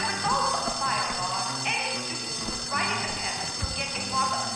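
A school fire alarm rings in the Bully video game, a steady, shrill ringing that runs continuously underneath louder voices talking over it.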